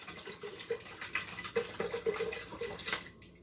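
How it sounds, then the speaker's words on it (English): Bottled water pours into an Instant Pot in a steady, close splashing stream that gurgles and shifts in pitch as the pot fills, then stops abruptly. "I'm just going to go ahead and do the bottled water, getting this poured in"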